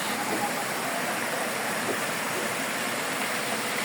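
Kabuayahan Falls pours in a steady, dense rush of falling water, close and unbroken with no pauses or other sounds for the whole stretch.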